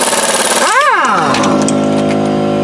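An air compressor runs in a garage during strut bearing and spring work, giving a loud, steady mechanical drone with a brief rising-and-falling whine near the start.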